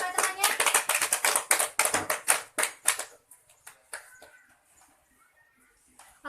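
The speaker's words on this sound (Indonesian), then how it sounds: "Beri aplaus pada temannya." A classroom of children applauds a classmate, a dense burst of clapping that fades to scattered claps after about three seconds.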